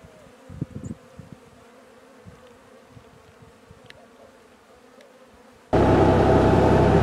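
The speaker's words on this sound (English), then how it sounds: "There's a bunch of bees there." Low, steady buzzing of bees on an off-grid ranch in west Texas hums quietly with faint ticks and rustles, then a loud rushing roar abruptly takes over at the end.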